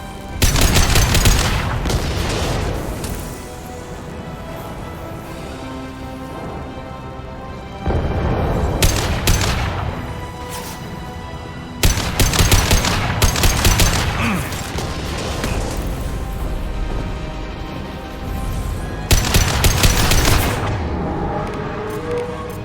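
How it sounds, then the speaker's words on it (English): Heavy gunfire in the Mass Effect game, with dense rapid bursts and booming impact-shot blasts recurring in loud waves over a constant battle rumble. "Firing an impact shot!"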